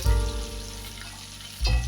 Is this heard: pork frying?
yes